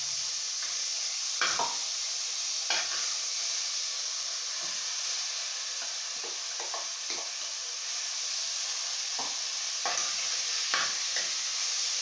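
Ground beef browning in hot fat in a pan, giving a loud continuous sizzling hiss, broken up by scattered scrapes and knocks of a utensil stirring the meat.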